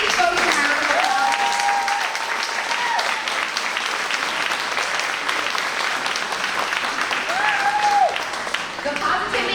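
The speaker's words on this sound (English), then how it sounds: "Can you give these folks a round of applause?" Sustained applause from an audience at a 5th grade elementary school promotion ceremony, steady and loud for the full stretch, with a few brief whistle-like tones and some voices mixed in.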